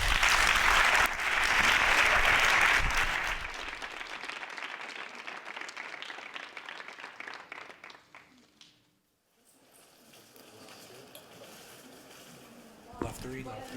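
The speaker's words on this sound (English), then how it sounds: "Let's give them another round of applause." Audience applause at a celebration of women in disaster risk management, loud and dense for the first few seconds, then thinning into scattered clapping that fades to near silence before a brief rise at the end.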